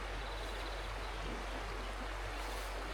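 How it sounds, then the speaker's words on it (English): Cottonwood Creek, a year-round stream running through farmland, flowing in a steady, even rush of water heard close and unbroken. "this is Cottonwood Creek, and it runs about mile and a quarter through our place"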